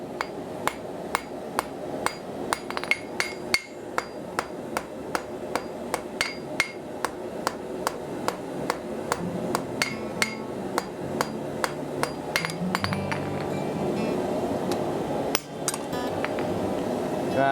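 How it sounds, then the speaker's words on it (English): Repeated hammer blows on a punch driving a hole through hot steel on a blacksmith's anvil while forging calipers, a steady run of sharp metallic strikes with ringing, close and loud, with no talk. "punching a hole right now"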